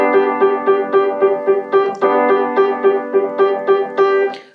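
A piano plays an arrangement of a pop song at full tempo, with evenly repeated chords in a steady pulse, close and clear with no talking.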